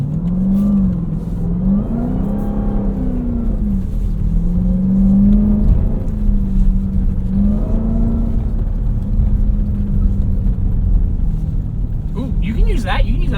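A 710 hp 2026 Dodge Durango SRT Hellcat Jailbreak AWD accelerates on snow at a rally school, its engine rising and falling in long revving surges, loud and close, with people talking over it.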